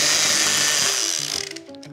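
A rotary hammer drill boring into concrete roars loudly, then its motor cuts out and winds down with a faltering, stuttering whir as the tool fails.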